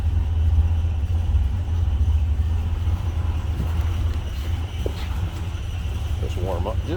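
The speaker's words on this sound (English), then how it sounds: "Just warm up just a little bit here. Give it a little gas." A 1965 Chevrolet Chevelle Malibu SS convertible warms up after a cold start, idling as a loud, steady low rumble with a light blip of throttle, while a voice briefly speaks near the end.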